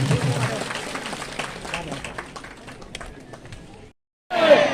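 Audience at Bharadisain applauding after the Uttarakhand chief minister's address, a crowd clapping that gradually thins and fades, followed by a short silence and a sudden burst of noise.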